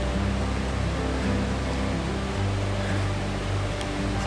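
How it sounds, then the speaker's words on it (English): Tamanawas Falls pours down with force in a steady, dense roar of rushing water, loud and unbroken throughout with no voices. "It's coming down with a lot of force."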